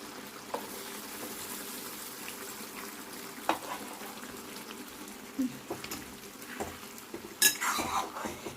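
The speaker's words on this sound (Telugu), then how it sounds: "ఇప్పుడు మనం ఈ వేసుకున్న ఆమ్లెట్ను ఈ కర్రీలో వేసుకుందాం" Omelette pieces stirred into a simmering egg curry in a pan, a utensil scraping and clinking against the metal in scattered strokes, with a soft sizzle beneath and a brighter clatter near the end.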